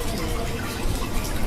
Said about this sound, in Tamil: இவ்வளவு நெய்ய ஏதோ தண்ணி மாதிரி ஊத்திக்கிட்டு இருக்காங்க